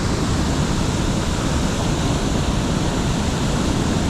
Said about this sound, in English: the volume of water coming off those falls is so intense that it shakes it up